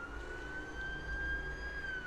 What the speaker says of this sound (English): Oh, siren! Fire engine.